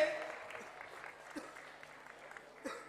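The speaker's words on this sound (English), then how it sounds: "Another round of applause." Audience applause at a World of Dance Berlin 2024 dance competition, a faint, steady patter of clapping with a few louder bursts, heard from a distance with some crowd noise.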